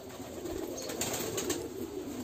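Pigeons coo in a pigeon farm room, a steady low murmur of overlapping calls that fills the short stretch, with faint bird chatter above it and no talking.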